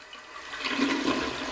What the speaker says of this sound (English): Have you ever thought about what happens to the water after you flush the toilet?